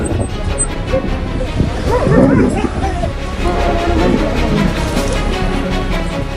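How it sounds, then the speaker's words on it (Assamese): Wild dogs yip, whimper and bark while confronting a lion in the Gir sanctuary, heard under a steady engine-like rumble and background noise, with occasional voices. "সিংহৰে উমলিছে বনৰীয়া কুকুৰে"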